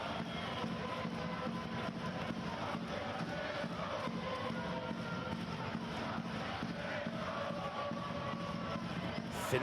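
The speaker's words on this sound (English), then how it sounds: "Listen to this crowd singing, drumming, trying to rev the team up" A crowd at an Italian women's volleyball match between Conegliano and Scandicci sings and drums steadily, a dense continuous roar with rhythmic beats heard from a distance.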